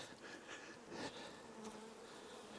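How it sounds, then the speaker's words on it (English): Honey bees buzzing steadily around an open hive box, a soft continuous hum with passing individual bees, no talk. "There's good looking bees, and they got to be pretty stout to make it through the winter and a bear attack in this box."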